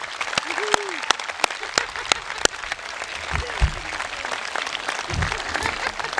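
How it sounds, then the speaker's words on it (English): Applause rises at a high school graduation ceremony, with scattered sharp nearby claps over a steady crowd clapping and some voices and murmurs underneath. "Would you please join me in giving her a round of applause as a small token of our appreciation?"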